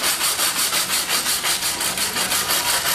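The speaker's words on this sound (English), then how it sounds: "just wire brushing." Wire brush scrubbing surface rust off a part from an Allis Chalmers 310 tractor, with steady back-and-forth strokes at a quick even rhythm, harsh and close, alone without talk.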